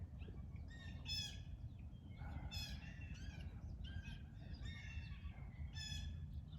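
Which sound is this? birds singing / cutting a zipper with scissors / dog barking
birds singing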